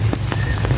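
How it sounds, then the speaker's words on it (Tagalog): Heavy rain pours steadily over an outdoor kids' playground at Quezon City Memorial Circle, a dense continuous hiss with scattered louder drops, close and alone without voices. "lahat sila nakasilong dahil sa panahon, maulan-ulan ang panahon"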